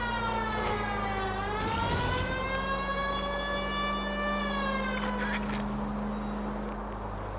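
A wailing siren in the video game L.A. Noire rises and falls in a steady sweeping tone, loud and continuous, with a low engine-like hum beneath it.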